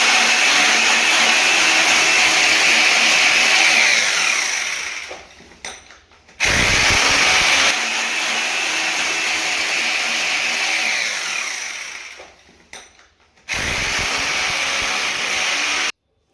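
Power drill boring holes into a house floor for termite spray, loud and steady in two long runs, each broken by a short pause and sharp clatter before restarting.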